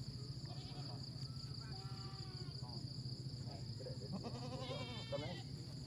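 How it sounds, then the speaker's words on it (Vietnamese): A female goat at a large goat market in Vietnam's northwest bleats several times, wavering cries near and clear over a constant background hum and market bustle, with someone talking in between. "con này à, con dê cái các bạn đây"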